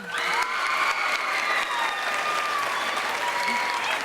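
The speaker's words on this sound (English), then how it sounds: "listen to your crowd roar" A school senior awards crowd cheers and applauds a scholarship winner, with a steady wall of clapping, whoops and shouted voices that stays loud and full throughout.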